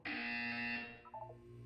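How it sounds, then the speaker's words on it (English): A harsh electronic buzzer in the Portal 2 video game test chamber, one loud sustained tone lasting under a second, then a brief falling stutter of tones trailing off. "When you hear the buzzer, look down at the floor."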